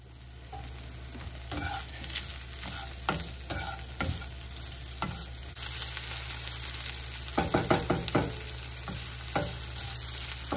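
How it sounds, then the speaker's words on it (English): Onion and ground beef frying in a pan, a constant close sizzle broken by repeated scraping and clacking of a spatula as the meat is stirred, denser toward the end. "So basically, we're going to cook the onion and then brown the beef."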